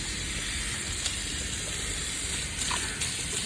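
Water runs from an opened tap so a German Shepherd puppy can drink, a steady close hiss and gush that continues unbroken with a few faint clicks and splashes.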